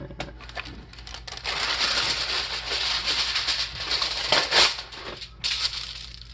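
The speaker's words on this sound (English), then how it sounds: "I take some aluminum foil" Aluminum foil being handled and folded, a close crinkling and crackling that swells into dense rustling bursts with short pauses, fairly loud and continuous, with no speech over it.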